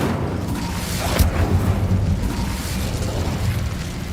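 Incendio fire spell cast in the game Hogwarts Legacy, a sudden whooshing burst of flame with a low booming rumble that swells and trails off under continuous game ambience.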